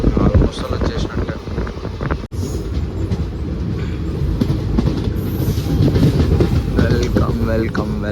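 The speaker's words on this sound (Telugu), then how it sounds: "ముందే వచ్చింది ట్రైన్, 5 మినిట్స్ ముందే వచ్చింది." A train pulls into Kadapa station with a loud, continuous rumble of wheels and carriages, squeals and clanks near the end, heavy wind buffeting, and voices talking over it.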